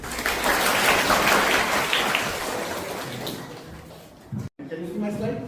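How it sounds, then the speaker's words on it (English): An audience at an alumni lecture gives a round of applause. The dense clapping is loud at first, then thins and fades, followed by a brief silence and a voice starting to speak. "Please give a round of applause."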